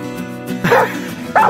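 A hunting dog barks during a badger hunt, two sharp close barks over a whining, whimpering undertone, with a voice speaking faintly nearby.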